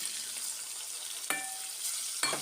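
Tomato pieces fry in a pan with a soft, steady sizzle, broken by two sharp clinks of a utensil against the pan.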